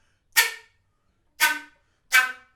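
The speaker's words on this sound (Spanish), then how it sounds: "simplemente se pone ataque shakuhachi y suena así" Three sharp breathy flute attacks in shakuhachi style, each a sudden forceful burst of air and tone that quickly fades, spaced about a second apart with silence between.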